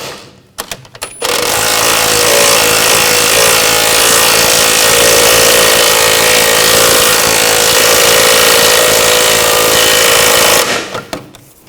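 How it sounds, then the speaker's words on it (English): A bolt on the rear lower outer ball joint of a 2000-2006 BMW X5 is driven down with a power tool, a loud, sustained buzzing whir running nearly ten seconds after brief start-up bursts, then cutting off. "Tighten this bolt down."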